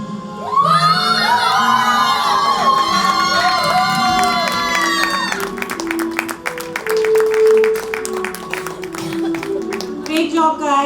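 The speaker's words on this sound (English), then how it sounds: "Huge round of applause for you all." After a school production of a Harry Potter play, an audience cheers, whoops and shouts, with children's high voices prominent and some clapping mixed in. Loud, excited crowd noise with voices throughout.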